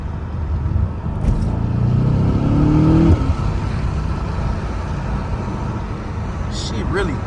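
A BMW M8 Competition's engine revs in the rain, its note rising sharply for a couple of seconds before settling into a steady rumble under constant road and rain hiss, with voices talking nearby.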